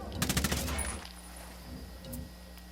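A quick burst of automatic gunfire in a tactical military shooter game opens loud and close, then fades into low ambient rumble with a faint later echo.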